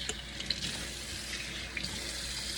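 Water runs steadily from a kitchen tap as homemade butter is rinsed, a close, continuous splashing stream with a few small clinks and sloshes.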